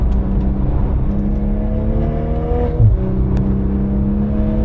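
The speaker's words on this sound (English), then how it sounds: "It's a nice blow off happening." A Toyota Supra's turbo engine drones steadily on the Nürburgring, its pitch dipping midway with a brief blow-off valve release before settling back into a loud, even hum.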